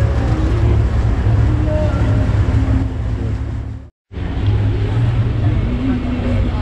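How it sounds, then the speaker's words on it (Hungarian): An excursion boat glides into a harbour with its engine throttled back, a low, steady rumble mixed with wind noise and a brief dropout, while people talk. "Teljesen vissza is vettük a motorról a nyomatékot, már csak suhanunk befele a kikötőbe."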